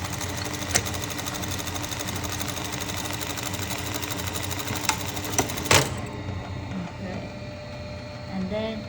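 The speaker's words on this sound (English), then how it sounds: "once I press, the machine will do its work" A sewing machine stitches a buttonhole with a rapid, even mechanical chatter close up. A few sharp clicks break the run, then the motor stops and quieter handling sounds follow.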